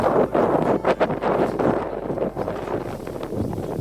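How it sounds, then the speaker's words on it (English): Gusty wind batters the microphone in uneven bursts, a close, rough rumble that rises and falls without any voices. "kind of windy today too"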